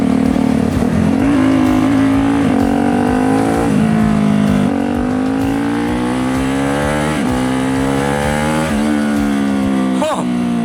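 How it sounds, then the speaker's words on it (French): Turbocharged Honda CRF 450 supermoto motorcycle, about 100 hp, accelerating hard on a road through repeated gear changes, its engine note climbing and dropping loudly and continuously close to the microphone with wind rush. "j'ai oublié que j'étais sur une CRF turbo"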